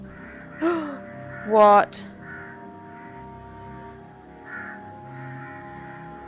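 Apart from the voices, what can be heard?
crows cawing in a video game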